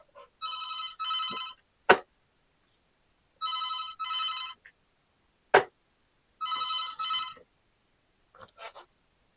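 A telephone rings with a classic electronic double-trill pattern, bursts of warbling tone repeating three times with pauses between, close and clear, interrupted by sharp clicks in the gaps and a faint partial ring at the end.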